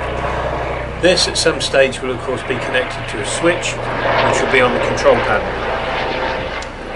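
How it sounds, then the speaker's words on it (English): A helicopter passes overhead outdoors, its steady low drone and rotor thrum continuing beneath a man's close, ongoing speech. "Excuse the helicopter flying over."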